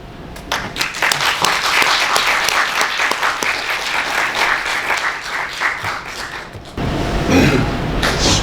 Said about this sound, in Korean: 영화 감독님을 뜨거운 박수로 모시겠습니다